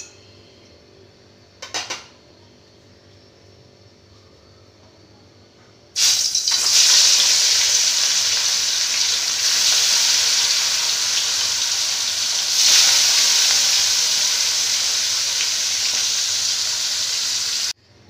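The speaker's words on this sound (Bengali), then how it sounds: "দেখো আমার এই যে মাছগুলো খুব ভালো করে ভাজা হয়ে গেছে।" Chitol fish frying in hot oil for a kalia: a loud, steady broadband sizzle bursts in suddenly after a brief quiet stretch with one small clatter, then hisses continuously with a swell partway through, no talking.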